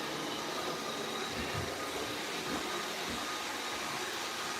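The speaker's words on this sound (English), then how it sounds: "There's the sus vacuum." A vacuum cleaner runs with a steady, broadband whoosh and motor drone, continuous and fairly close, with no voices.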